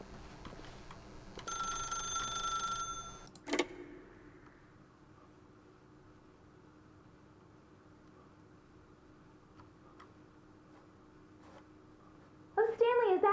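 A telephone rings in The Stanley Parable, a short electronic ringing burst followed by a quieter stretch of room tone, with a voice coming in at the end.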